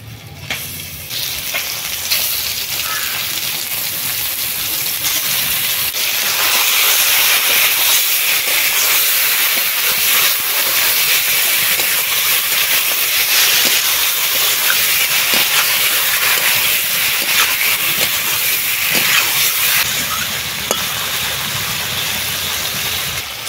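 Lote (Bombay duck) fish sizzles in hot oil, a loud, dense, continuous hiss with scattered spitting crackles that stays close and unbroken for over twenty seconds, with no talking.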